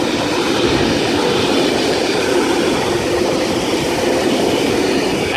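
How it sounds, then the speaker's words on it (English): A suburban Sydney electric passenger train rolls past on the up main line near Bexley North, its broad, steady rumble and wheel noise loud and continuous throughout, with no voices. "We have another train passing the up main."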